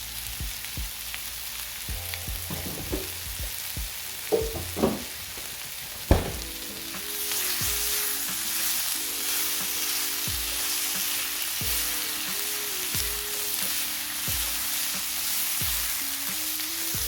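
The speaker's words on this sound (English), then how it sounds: "So we're gonna throw some butter in there, along with the rosemary and the thyme." Butter, rosemary and thyme hit a pan of frying breakfast potatoes: a few knocks and clatters of the spoon, then a louder, steady close sizzle that carries on to the end, with no one talking.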